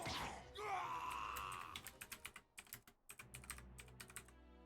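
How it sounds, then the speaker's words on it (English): Fast computer keyboard typing in a quiet room, a string of sharp, close clicks and taps coming in uneven bursts, preceded by a brief breathy vocal sound. "I hear you typing."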